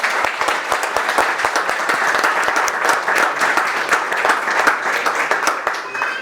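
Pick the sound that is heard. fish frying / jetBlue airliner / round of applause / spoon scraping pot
round of applause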